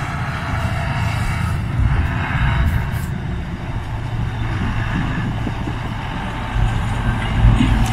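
Fodder beet harvester unloading beets while driving in a field, a heavy continuous engine rumble with mechanical clatter and rattling, close and steady, with a few faint swells.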